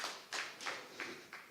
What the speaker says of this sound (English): let's give it another applause to Gonzalo